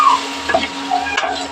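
Ginger paste, turmeric, salt and a little water are stirred in a pan. A few short scraping strokes come over a faint, low sizzle, close up and fairly quiet.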